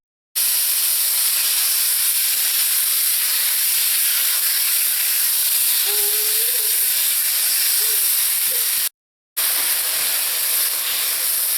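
Minced meat hits a hot pan and sets off a steady, close hiss of sizzling that runs almost unbroken, pausing once for a moment before carrying on.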